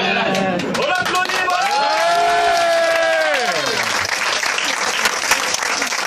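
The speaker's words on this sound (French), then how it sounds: "On l'applaudit" An audience applauds steadily at a live film-screening event, dense clapping under a loud sliding tonal sound and some voices, continuous throughout.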